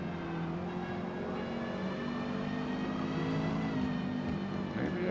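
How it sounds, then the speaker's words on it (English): A Renault 8 Gordini racing in Forza Motorsport at Homestead Miami hums continuously up close, the engine note shifting in pitch as it drops a gear, with other cars audible in the background. "I certainly miscalculated that downshift there"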